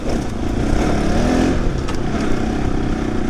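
A motorbike is ridden along a steep Nepali mountain road. Its engine drones loud and close in a steady, rough roar with no break for the whole stretch.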